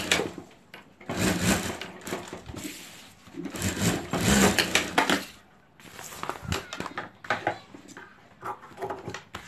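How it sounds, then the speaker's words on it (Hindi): A sewing machine stitching seams on a handmade sling bag runs in several close bursts of whirring, separated by short pauses, with no talk. "और अब यहाँ सिलाई कर देंगे।"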